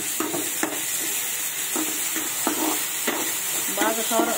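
Chopped tomatoes fry in a pan for masala oats, a steady sizzle with a spoon scraping and stirring at irregular intervals, close and continuous without talk.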